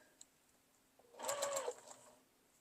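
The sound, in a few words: sewing machine stitching a coffee cup mug rug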